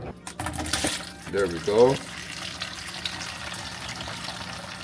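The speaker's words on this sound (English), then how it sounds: "I'm gonna drain the dishwasher and see if it'll just flush everything out with the water." A dishwasher drains and pushes water out into a kitchen sink, giving a gushing, gurgling liquid rush. A person speaks briefly over it, and a low steady flow continues afterward.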